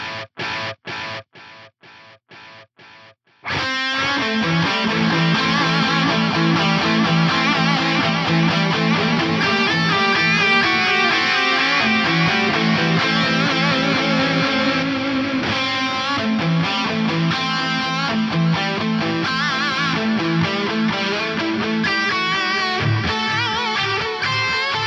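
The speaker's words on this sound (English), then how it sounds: "you get the sequence all the same volume, and then the feedback controls the kind of fade out for that sequence" An electric guitar plays through a multi-tap delay on an HX Stomp. A few sharp repeated taps open it, then a dense, distorted wash of repeating notes builds and sustains loudly.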